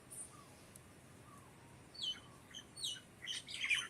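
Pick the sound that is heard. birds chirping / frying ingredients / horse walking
birds chirping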